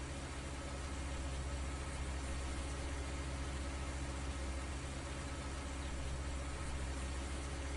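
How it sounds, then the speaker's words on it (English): A tractor engine idles steadily in a farming video game, a constant low, even hum with no voices. "Maybe we can bump it over with this tractor."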